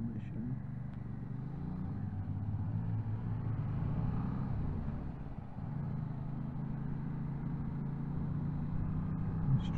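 Yamaha Tracer 7 motorcycle ridden around town, its engine a steady low rumble with wind noise heard from the rider's position, holding fairly even with a brief dip midway.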